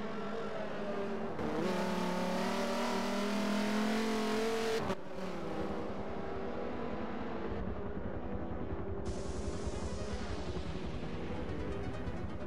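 Race car engines roar through a Forza Motorsport online race, with loud sustained revving and high-pitched whine that shifts in pitch as cars pass, mixed with faint background noise and no clear talk.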